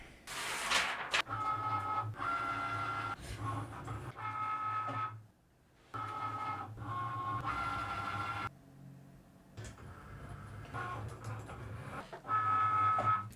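Cricut cutting machine working on cardstock on a mat, a quiet motorized whir with repeated carriage runs and faint high tones, stopping in brief pauses between passes.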